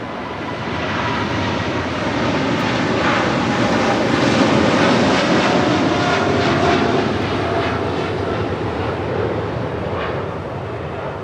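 A jet airliner takes off from runway 25 right at Los Angeles International Airport, its engines roaring loud and broad-band, with a steady, sustained rumble that swells in the middle and holds throughout.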